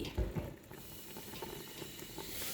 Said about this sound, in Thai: นี่ค่ะก็เคี่ยวไปเรื่อย ๆนะคะ จนกว่าจะเสร็จค่ะ